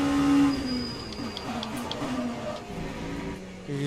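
Race car braking hard into a corner at Spa in the Le Mans Ultimate sim, a steady engine tone dropping in pitch with brief squeal-like tones from a tyre lock-up, close and continuous.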